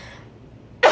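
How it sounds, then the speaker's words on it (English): A woman gives one sharp cough close by at the very end, after a near-silent lead-in. "excuse me for coughing."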